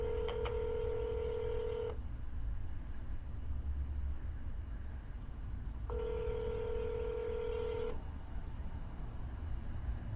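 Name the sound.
telephone being dialed for a cold call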